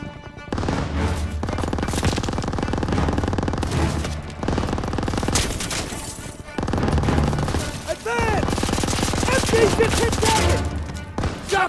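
Machine gun fire in Call of Duty: World War II rattles through a dense wartime street battle, loud and continuous bursts layered with explosions and chaotic combat noise, with shouted voices in the mix.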